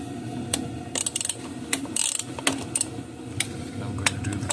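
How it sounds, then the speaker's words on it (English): Ratchet with a number 10 socket loosening bolts on a 2021 Chevy Traverse, sharp clicking strokes in short uneven bursts over a steady heater hum outdoors in the cold. "We're going to use the same number 10 socket to loosen these bolts."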